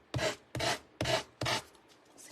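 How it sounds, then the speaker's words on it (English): Four rhythmic rasping strokes of sanding along the edge of decoupage paper applied to a motorcycle, each stroke about a third of a second, close and fairly loud, with a brief pause between them and no talking. "And I love the way sanding it off makes that nice finished edge."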